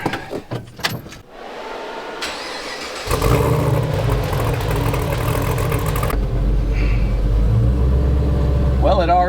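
Someone's tow truck fires up on a test drive: keys rattle, then the engine starts and runs as a loud, steady drone close by, with a voice speaking briefly over it.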